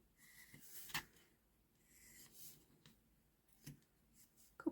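Scissors trim paper snowflake template pieces in a few short, crisp snips with soft rustling of paper between cuts, close and fairly quiet.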